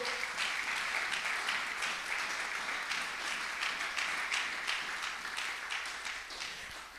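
A church congregation bursts into sustained applause, dense and steady from start to finish with cheering mixed in, filling the room loudly before tapering slightly at the end.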